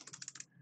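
Quick, light clicks of fingers typing on a computer keyboard, a rapid burst of keystrokes lasting well under a second, close and fairly quiet before trailing off.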